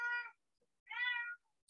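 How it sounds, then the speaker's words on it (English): A pet cat meows twice indoors, two clear, close, drawn-out calls separated by a short pause, with no other sound around them. "my cat is here."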